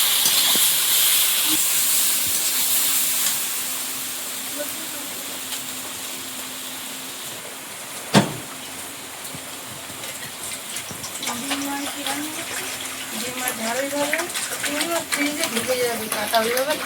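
Water hits a pan of spiced egg curry seasoned with turmeric and Kashmiri chili powder, opening with a loud steamy hiss that settles into a softer bubbling sizzle, with a voice heard faintly later.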